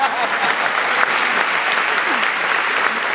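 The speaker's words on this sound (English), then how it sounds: "Applause, please." Audience applause at a college commencement ceremony for an honorary degree recipient, a steady dense wash of clapping from a large crowd that holds evenly throughout.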